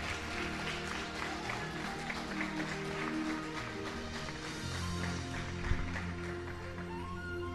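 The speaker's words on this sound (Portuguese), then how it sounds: "Pode aplaudir o Senhor." Congregation applauding in a church during a sermon, steady clapping at a low level over a droning background hum, with no one speaking.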